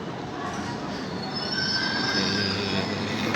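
A train pulling into a station rumbles in with a continuous roar and high metallic squeal of wheels braking, loud and close, steadily building.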